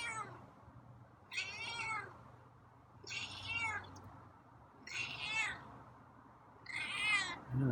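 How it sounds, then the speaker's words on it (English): A feral cat gives four raspy, drawn-out meows at an even spacing of roughly two seconds, close by and fairly quiet against a low background hum. "Oh, that's a raspy meow."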